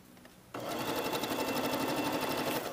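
A sewing machine starts up after a brief quiet moment and then runs steadily as it stitches a curved blouse sleeve seam, a loud continuous whirring rattle close by.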